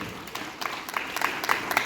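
Students and staff clap at a school Republic Day celebration at RS Golden Higher Secondary School in Kathua, a dense, lively applause with scattered sharper claps standing out.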